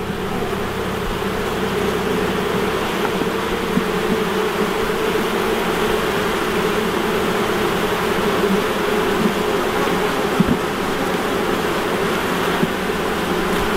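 Honey bees droning in an open hive during an inspection, a dense, steady buzz close by that holds constant throughout with no talking.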